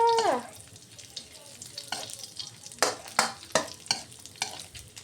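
Squid frying in a pan for an omelette breakfast, a soft continuous sizzle punctuated by a series of rhythmic scraping strokes as the pieces are moved around, close and fairly quiet.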